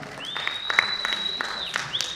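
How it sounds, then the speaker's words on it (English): Audience applause at a Kenyan essay competition award ceremony, a steady patter of clapping hands over about two seconds, with a sustained high electronic tone running through it. "Let's clap for Morgan Mwenda."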